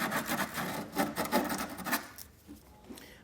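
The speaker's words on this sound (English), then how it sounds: "come back with a file or some sandpaper, whatever you got, and just clean all the sharp edges" A hand file rasps in a steady series of back-and-forth strokes over the sharp edges and burrs of a hole drilled in metal for an underbed gooseneck trailer hitch, close and moderately loud, then fades to quiet.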